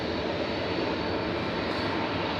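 A Ryanair Boeing 737-800 roars past as a broad, steady jet engine rush that fills the air evenly with no talk.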